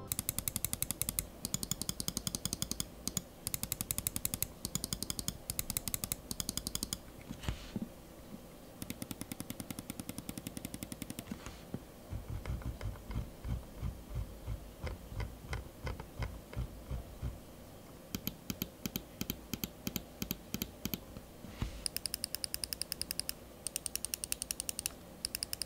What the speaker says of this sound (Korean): 클릭 소리도 궁금할 테니 한번 들려드리면